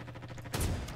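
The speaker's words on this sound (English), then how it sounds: "A sniper rifle of some sort." A single sharp sniper rifle shot cracks in a Roblox game, a loud burst after a brief lead-in of faint rhythmic game noise.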